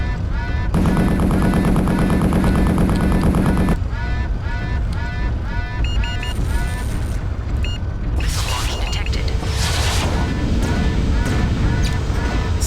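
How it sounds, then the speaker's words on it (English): Pulse lasers firing in MechWarrior 3, a rapid buzzing, stuttering stream of shots with electronic tones and booms over dense battle noise and a talking voice, loud throughout. "I'm liking these pulse lasers. Fire a hell of a lot more."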